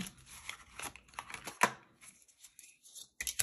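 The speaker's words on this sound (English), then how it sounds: "I'm not good, honey, at shuffling." A deck of playing cards is shuffled by hand at a table, giving soft, close riffling and tapping bursts for about a second and a half before quiet, then a faint clatter at the end.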